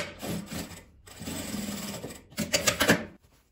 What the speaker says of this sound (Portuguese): Aqui eu vou passar a costura com um pezinho de máquina.